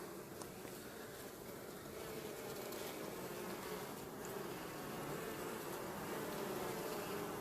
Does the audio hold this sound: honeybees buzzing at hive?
yes